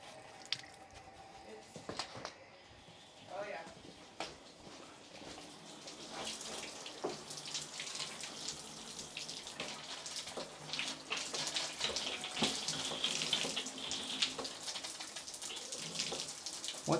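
Water runs and splashes from a newly installed exposed shower faucet in a bathroom under construction, a steady hiss that builds and grows louder over several seconds with scattered drips and clatter, and no talking.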